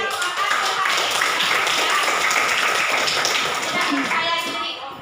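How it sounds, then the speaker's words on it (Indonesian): A group claps together in a steady burst of applause lasting several seconds, with voices mingling in the background. "give applause for us"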